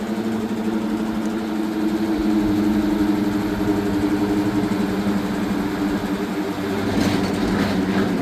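A zero gravity amusement ride lowering itself after an emergency stop, heard as a steady, loud mechanical hum and drone with a constant low rumble throughout, no speech.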